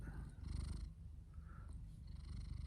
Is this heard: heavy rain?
no